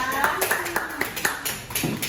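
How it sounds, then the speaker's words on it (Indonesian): A classroom of students claps for a presenting group in a quick, regular rhythm of about nine claps, moderately loud, with some chatter underneath. "Tepuk tangan dulu buat kelompok 1 ya."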